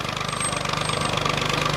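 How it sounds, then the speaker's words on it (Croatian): A village tractor engine rumbles close by in a rapid, even pulsing chug, steady and moderately loud with no talk over it. "volim ovu hrku traktora i svega"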